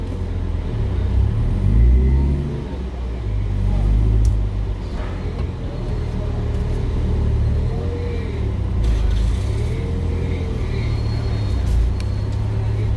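A car engine rumbles low and steady while the car is being parked. The drone is close and continuous, with a faint voice now and then over the hum.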